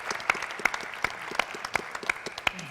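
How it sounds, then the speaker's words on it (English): Applause from an audience at a White House education event, with sharp individual claps standing out over a steady, moderately loud wash of clapping that continues throughout. "One more round of applause."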